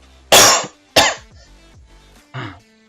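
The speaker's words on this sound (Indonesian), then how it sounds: "Maaf, batuk." Two sharp close coughs in quick succession, then a quieter third cough after a short pause, with throat-clearing rasps.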